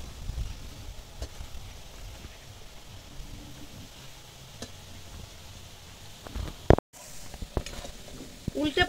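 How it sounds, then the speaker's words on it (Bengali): Gandal leaf fritters fry in a pan with a soft, steady sizzle and occasional stirring clatter, faint and close, ending with a few louder knocks. "একটু ভাজা হতে দেব প্রথমে"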